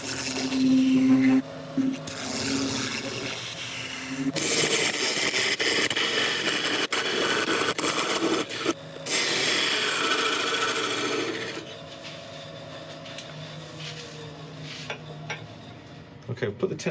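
A wood lathe cuts tenons on a resin piece with a scraping, rasping tool sound. The cutting comes in bursts broken by brief pauses, close and fairly loud, and fades to quieter handling near the end.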